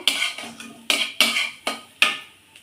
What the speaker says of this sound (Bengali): দিয়ে বেশ সুন্দর করে নেড়ে চেড়ে মিশিয়ে নেব।